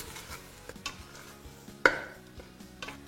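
Spices, salt and a cinnamon stick stirred in a pot for harira, with soft scraping and clicking strokes, one sharper knock of the utensil against the pot, and a faint sizzle underneath; no talking.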